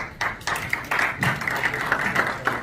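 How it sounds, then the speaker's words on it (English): An audience at a business leaders' forum on Southeast Asia applauds in a conference hall, with a steady wash of clapping that rises in bursts for close to three seconds at moderate loudness. "A big round of applause, please."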